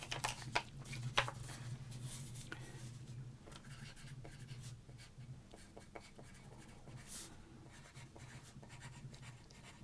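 Lineups for a baseball card battle written out by hand, giving soft continuous pen scratching across paper with scattered small taps, close and quiet, over a low steady hum.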